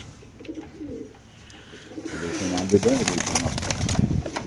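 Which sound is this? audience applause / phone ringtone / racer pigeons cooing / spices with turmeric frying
racer pigeons cooing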